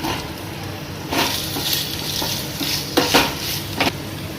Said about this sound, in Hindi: ऐड अ घी, पनीर डालेंगे ताकि वो थोड़ा सा रेडिश हो जाए, थोड़ा सा पक जाए